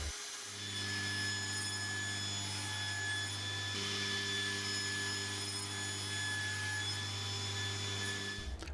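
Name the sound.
cutting MDF boards to size for router jigs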